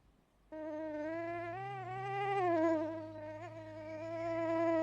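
Cartoon bees buzzing, a thin, nasal, high-pitched drone that starts suddenly and wavers up and down in pitch, close and steadily growing louder, with no talk.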